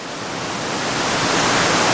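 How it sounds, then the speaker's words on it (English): A waterfall running down to Lake Como roars as a steady, dense rush of falling water, close and loud, swelling slightly over two seconds with no voices. "So this absolutely gorgeous waterfall behind me, which runs down to Lake Como here."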